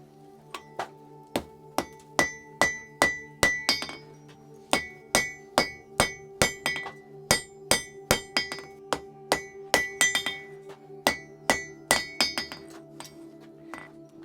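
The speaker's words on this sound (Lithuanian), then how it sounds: "Traukiu lauk ir virinu ant priekalo." A hammer forge-welds an axe on an anvil. The blows ring out as sharp, regular, metallic clinks, fast at first and then continuing in short runs, close and loud, with no talking.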